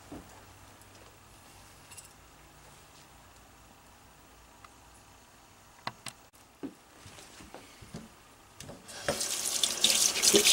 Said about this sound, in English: Get some water on our chicken.